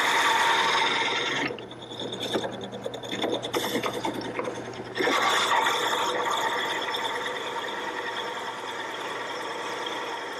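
Drilling into wood for hollow turning on a lathe: a steady grinding whine breaks into a few seconds of rattling, scraping chatter, then settles back into a continuous drone, close up with no talking.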